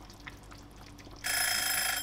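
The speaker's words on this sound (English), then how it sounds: "there goes the timer" A kitchen timer goes off partway through, a loud steady electronic ring that starts abruptly after a quiet stretch of faint kitchen noise and continues to the end, with no talking.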